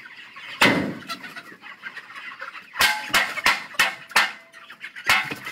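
Chickens cluck in a burst of short, loud, close calls over a background murmur, with one call early and then a rapid run of clucks near the end.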